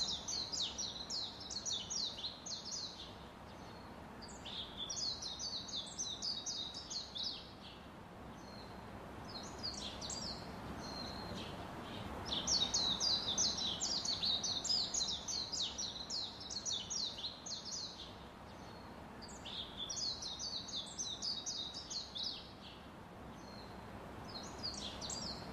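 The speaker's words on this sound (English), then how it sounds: "Number six, rose-ringed parakeet." Rose-ringed parakeets give bursts of shrill, high chattering calls in repeated clusters every few seconds, fairly close and clear over a low steady outdoor background.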